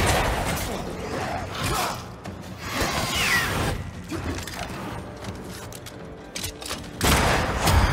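Gunshots from a corpse enemy in Banishers: Ghosts of New Eden, rough bursts of gunfire and mechanical clatter amid dense game noise, with a sharp loud burst near the end.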